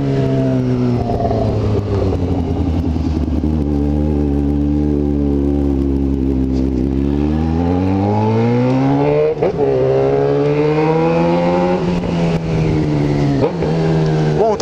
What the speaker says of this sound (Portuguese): E a moto ficou uma delícia,